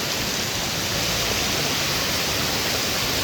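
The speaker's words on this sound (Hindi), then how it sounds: "ये है ऊपर से जो पानी आ रहा है" Loud, steady roar of water crashing down at Karlaan waterfall near Abbottabad, Pakistan, a dense continuous rush heard up close with no talking.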